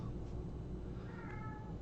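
A house cat meows faintly in the background of a quiet room, a couple of brief soft calls over steady low hum, with no talking.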